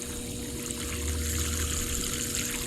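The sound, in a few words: dirty water draining out while backwashing a sand filter pump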